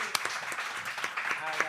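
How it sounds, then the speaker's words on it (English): Studio audience applause at the end of a podcast interview, a short burst of scattered claps and light cheering, with voices talking over it. "Can we get a round of applause?"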